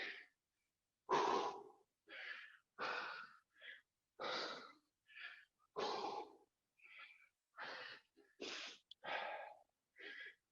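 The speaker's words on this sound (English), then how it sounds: "I'm trying to slow down my breathing" Heavy, strained breathing while holding a plank during a squash fitness workout, a steady run of loud, raspy, wheezing breaths and gasps at a quick, regular rhythm, close by with no other sound.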